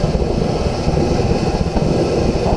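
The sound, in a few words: forced air heater burning diesel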